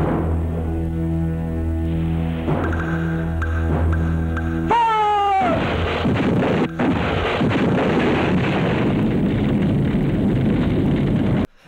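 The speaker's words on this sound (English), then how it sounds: "Robo Warrior gets blown up by a bazooka" A bazooka blast in the 1988 action film Robo Vampire: a tonal whoosh and droning score give way to a loud, sustained explosive rumble with crackling debris that lasts several seconds.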